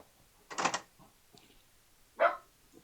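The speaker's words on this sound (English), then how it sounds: "Don't mind the dogs." Dogs give two sharp barks, spaced about a couple of seconds apart and somewhat distant, over a quiet background with no talking.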